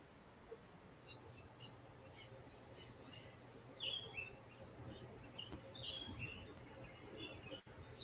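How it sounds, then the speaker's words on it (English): Birds chirp faintly outdoors, a few sparse high calls scattered over a steady low background hum, distant and quiet. "listen to those birds"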